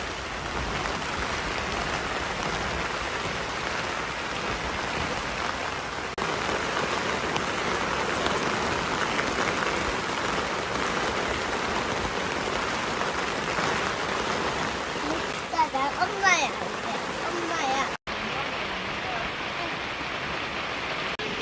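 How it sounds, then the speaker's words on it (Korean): Heavy rain falls and strong wind blows at an autumn riverside campsite, with an air tent nearby, making a dense steady hiss of rain and gusts that continues for the whole stretch, with a brief faint noise near the end. "비가 많이 온다고 했는데 바람이 엄청 많이 불기 시작했습니다"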